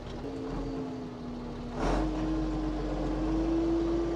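An old combine harvester with a six-speed manual gearbox pulls away in first gear, its steady low engine drone rising in load partway through and holding a constant tone, close and continuous with no talk.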